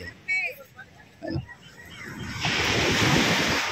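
Broad, steady wash of surf builds and swells louder toward the end, with wind rumble and brief voices early on.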